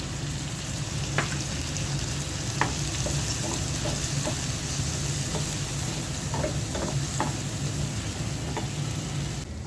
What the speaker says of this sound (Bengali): কিছুক্ষণ করলা ভাজিটা ভাজা ভাজা করলাম